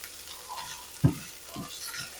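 Food frying slowly in a pan during brunch cooking, with a soft steady sizzle and a few louder stirring or scraping knocks, close and fairly quiet.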